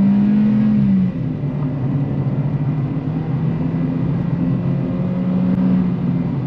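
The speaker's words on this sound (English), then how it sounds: "Let's quickly test the acceleration from this line." Kia Picanto 2024 GT-Line with a 1.25L engine pulling away hard from a standstill, a steady droning engine note rising slightly in pitch, heard from inside the cabin over continuous road noise.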